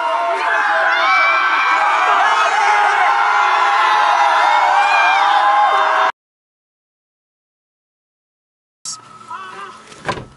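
A group of young people scream and cheer together at full volume for several seconds, then the sound cuts to silence before a few voices talk briefly.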